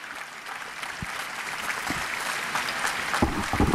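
Applause from an audience in the Paul VI hall, a steady crackle of many hands clapping that builds slightly in strength, heard at a moderate distance with no talking.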